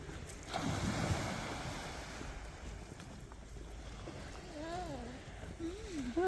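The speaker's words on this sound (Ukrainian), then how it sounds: "шелест волн прибрежных" Sea waves wash onto the shore at Nesebar, Bulgaria, a soft steady surf hiss under faint wind, with a voice briefly rising and falling over the quiet waves.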